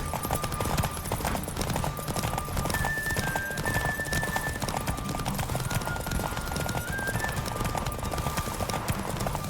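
Horse hooves gallop in a fast, steady clip-clop beneath continuous background music in a video game horse race, with a brief whinny.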